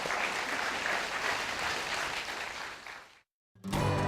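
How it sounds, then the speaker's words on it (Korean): Audience applause at the close of a Korean Saturday science talk event, a dense steady clapping crowd that holds for about three seconds, then cuts to brief silence before another sound begins. "다시 한번 뜨거운 박수로 감사의 인사를 부탁드리겠습니다"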